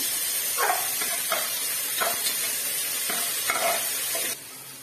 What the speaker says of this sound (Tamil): ஒரு சின்ன தக்காளி ஒண்ணு கட் பண்ணி வச்சுருக்கேன் அதை வந்து இதில் போட்டுக்கலாம் தக்காளி நிறையா ஆட் பண்ணாதீங்க கம்மியாக மட்டும் ஆட் பண்ணிடுறாங்க போட்டு நல்லா கிளறி விடுங்க